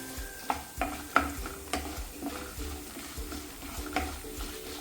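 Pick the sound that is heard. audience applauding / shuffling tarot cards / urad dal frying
urad dal frying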